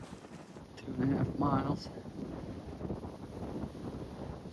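Wind gusts across an open hunting area during a rainstorm on a bow hunting and truck camping trip, a low blustery rumble against the microphone that swells and eases under a man's brief speech.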